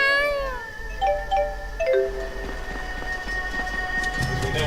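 A game cat in Tales of Xillia 2 lets out several drawn-out, wavering meows one after another, clear and fairly close over a low background hum.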